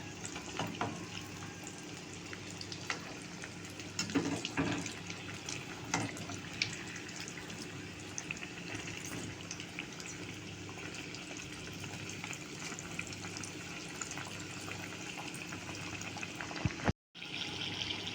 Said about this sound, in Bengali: আমার ভাজা হয়ে গেছে একদমই মুচমুচে করে তুলে নেবো আমি আওয়াজটা তোমরা বুঝতেই পারছ